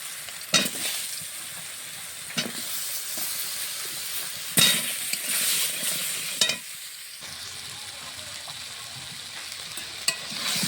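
Potato and pointed gourd fry in hot oil with a constant soft sizzle, while a spatula scrapes and stirs the pan in occasional sharp clattering strokes, close by and with no talking.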